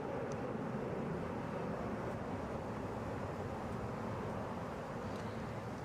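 An Airbus A321 takes off from Atlanta International Airport, a steady distant jet roar with broad rumble and wind noise, continuous and without talk.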